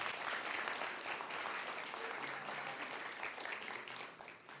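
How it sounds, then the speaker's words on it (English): Sustained applause from an audience at a university Umoja celebration in Tacoma, a dense, steady clatter of many hands clapping at once that holds across the whole stretch and thins slightly toward the end. "give them a round of applause."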